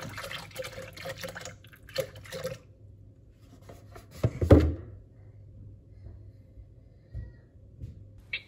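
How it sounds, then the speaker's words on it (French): Milk pours into melted butter in a Thermomix bowl with liquid splashing and dripping, a thunk in the middle, and scattered kitchen clatter at close range. "On rajoute 300 g de lait."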